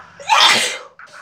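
A single sharp sneeze, close and loud, with a brief breathy intake before it and a short faint sound trailing after.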